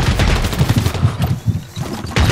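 A bot firing a gun at a wall in Fortnite, a loud rapid string of shots in quick bursts with a short pause midway, close and dominant.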